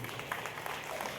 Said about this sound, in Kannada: ಚಪ್ಪಾಳೆ ಹೊಡೆಯುವುದು.